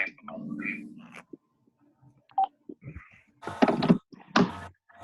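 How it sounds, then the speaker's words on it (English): A telephone handset hung up during a Zoom call: a few scattered clicks and knocks are followed by two sharper clunks near the end, separated by quiet gaps. "hanging up the phone now, Professor Spiegel."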